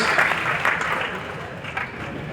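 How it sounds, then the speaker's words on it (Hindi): Steady audience applause in a college hall during a motivational talk, a dense wash of clapping from a large crowd that fades slightly toward the end, with no talk over it. "ऋषभ के लिए तालियां होनी चाहिए।"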